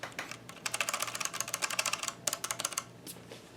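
Rapid typing on cheap mechanical switches in a budget custom keyboard built in a Meko Push chassis, a fast close clatter of keystrokes in two bursts with brief pauses and no talking.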